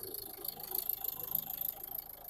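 Diesel engine of a 2017/18 Renault Duster Sandstorm idling smoothly: a low, steady rumble with a faint rhythmic rattle, heard at modest level for a couple of seconds.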